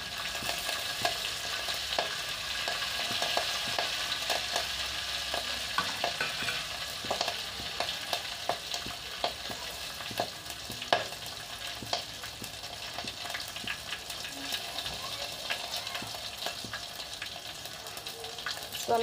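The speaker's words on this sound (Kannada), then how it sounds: "ನೆಕ್ಸ್ಟ್ ಇವಾಗ ಬೆಳ್ಳುಳ್ಳಿನ ಹಾಕ್ತಾ ಇದ್ದೀನಿ. ಇವಾಗ ಕರಿಬೇವು ಹಾಕ್ತಾ ಇದ್ದೀನಿ." Garlic and curry leaves sizzling steadily in hot oil in a pan for Karnataka-style spicy coconut, with a continuous frying hiss, occasional stirring clinks and scrapes close by, and no talking.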